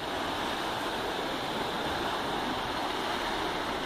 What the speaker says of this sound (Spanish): la corriente del agua